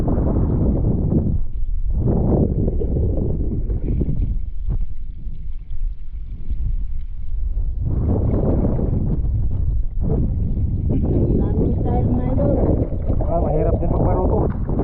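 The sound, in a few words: strong wind at sea while rowing a boat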